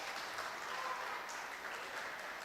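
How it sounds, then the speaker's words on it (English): Audience clapping for young children at a tennis player development workshop, a steady, fairly faint wash of applause throughout with no distinct voices. "we should all clap for all the small kids over here"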